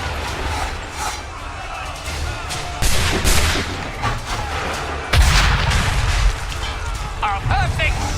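Cannon fire in Assassin's Creed III, heavy booming blasts landing around the three- and five-second marks above a continuous rumbling battle bed, with voices talking amid the noise.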